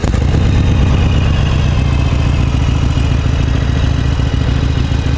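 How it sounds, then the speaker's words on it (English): Harley-Davidson Sportster 883 Iron with an air-cooled, fuel-injected 883cc V-twin idles steadily and loudly up close, a constant low rumble with mechanical clatter running throughout. "883cc air-cooled V-twin with a 5-speed fuel-injected bike. Fire it off and let you give it a listen."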